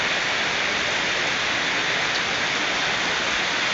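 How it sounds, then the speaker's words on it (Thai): Heavy rain pouring down, a dense, loud, unbroken hiss of falling water that fills the whole stretch without any pauses or voices. "ฝนตกใส่ตอนเที่ยงพอดีเลยนิดหน่อยกลับบ้าน"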